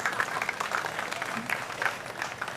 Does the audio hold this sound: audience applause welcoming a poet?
yes